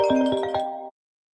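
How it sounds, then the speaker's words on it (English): A mobile phone ringtone goes off nearby, a short bright melodic run of chiming tones lasting under a second before it cuts out abruptly into silence. "my phone was going off"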